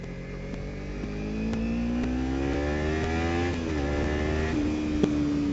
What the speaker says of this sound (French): Ah, le bruit du Akrapovic, c'est génial.